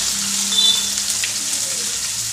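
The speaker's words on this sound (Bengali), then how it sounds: "কুচানো কিছু পেঁয়াজ দিয়ে দিলাম" Chopped onions hit hot oil already holding fried garlic, giving a steady close sizzle with a brief stir scrape partway through, alone with no voices.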